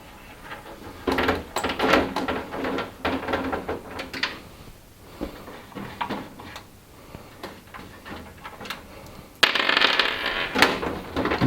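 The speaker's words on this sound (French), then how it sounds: "Voilà, on tire la porte," Side panel door of a Phanteks Enthoo Pro PC case being opened after its thumbscrews come out: scattered close knocks, scrapes and metallic rattles over several seconds, ending in a louder sliding clatter.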